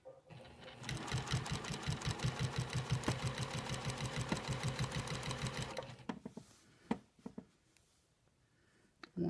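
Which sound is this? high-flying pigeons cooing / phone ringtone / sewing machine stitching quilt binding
sewing machine stitching quilt binding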